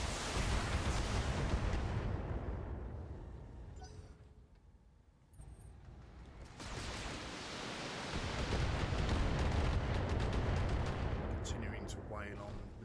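Missile salvos firing in the BattleTech mech strategy game, a sustained roaring, crackling barrage with dense rumbling bursts, dipping briefly mid-way before resuming loud and continuous, with faint talk underneath.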